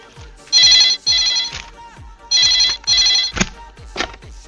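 A telephone rings in loud, sharp electronic bursts, two pairs of trills separated by short gaps, followed by brief clatter.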